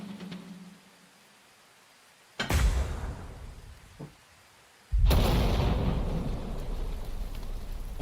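Mortar explosions in the Valor & Victory WW2 Pacific game, two sudden loud booms a few seconds apart, the second followed by a long rumbling, crackling tail, with a faint thud between them.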